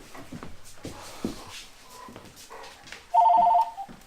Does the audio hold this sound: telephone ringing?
yes